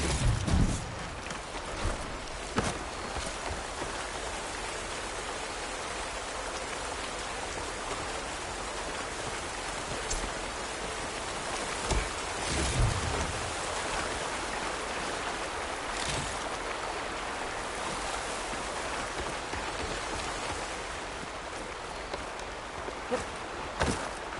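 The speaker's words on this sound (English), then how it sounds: "A break from the rain." Steady rain falls in a Horizon Forbidden West game scene, a continuous broadband hiss with occasional soft thumps and drops, even and fairly loud throughout with no talk.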